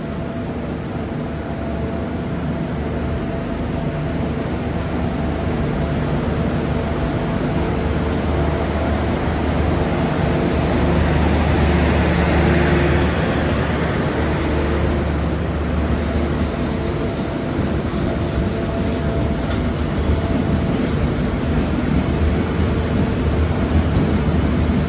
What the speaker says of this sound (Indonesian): ini komuter lain Pasuruan diberangkatkan dari stasiun Bangil menuju tujuan akhirnya stasiun Pasuruan